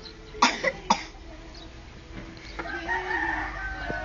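A chicken gives two sharp, raspy coughs close by, followed by soft clucking and a faint rooster crow in the background.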